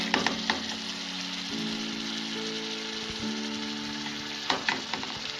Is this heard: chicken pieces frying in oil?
yes